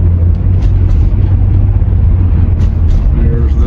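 A loud car rolls slowly through a tunnel, its deep low rumble steady and close throughout, with faint talk mixed in.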